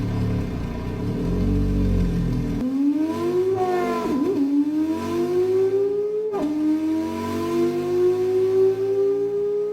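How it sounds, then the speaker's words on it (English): An inline seven-cylinder engine revving hard, loud and close, its pitch sweeping up through several rising pulls with a brief dip and a sharp restart midway, with no talk over it. "Why don't manufacturers use the inline 7 engine? It sounds pretty unique"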